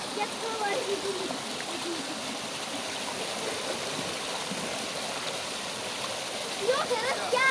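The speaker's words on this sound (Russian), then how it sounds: "Вот такой вот водопад очень красивый." A steady rush of water from a waterfall fills the scene with continuous broadband noise, with faint voices and a brief splash near the end.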